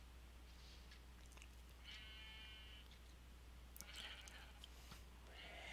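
Minecraft sheep bleating, faint short bleats scattered over a steady low hum of game background noise, with no talking.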